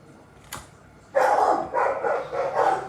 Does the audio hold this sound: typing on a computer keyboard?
no